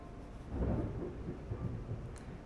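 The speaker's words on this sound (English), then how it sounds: "And sorry for the thunder" Low, muffled thunder rumbles faintly in the distance during a quiet stretch, with no speech, as a storm begins to bring rain.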